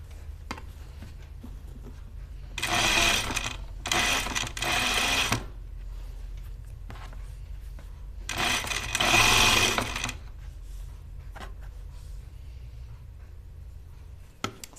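A sewing machine stitches around the armhole of an Opium coat in two sustained runs, each broken by a brief pause, then stops. A steady low hum underlies everything and there is no talk.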